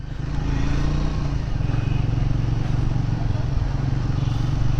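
A Triumph Speed 400 motorcycle engine drones steadily while riding, a continuous close rumble that rises slightly as it settles into a constant pull.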